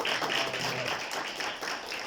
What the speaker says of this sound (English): give Mayor Ford a round of applause